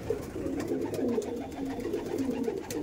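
A steady bed of deep, murmuring coos from green Madras pigeons of Kolkata fills about three seconds, several birds calling at once close up with no talk.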